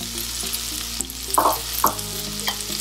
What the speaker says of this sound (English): So let's just saute for 3 to 4 minutes